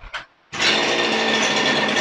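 A two-stroke CG411 grass cutter engine starts after a brief blip and then runs steadily at a loud, high-pitched buzz close by.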